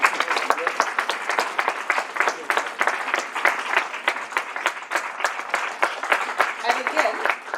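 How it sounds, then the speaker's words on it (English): A crowd at a 15th anniversary celebration applauds warmly, a steady wash of many hands clapping that continues throughout. "he deserves a really huge amount of applause"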